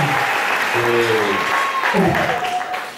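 A congregation at a French-speaking church service applauds to acclaim the Lord, with steady, loud clapping filling the room and a voice calling out over it.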